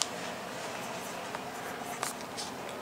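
A pencil scratches across the page of a book in a soft, continuous rasp, close by and fairly quiet, with a couple of faint taps along the way.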